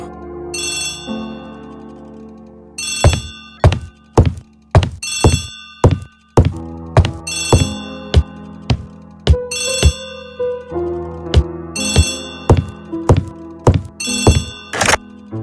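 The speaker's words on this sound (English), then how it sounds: "Poirot, the telephone." An old-fashioned telephone bell in the Agatha Christie ABC Murders video game rings in repeated loud bursts, interspersed with sharp thunks and brief pauses.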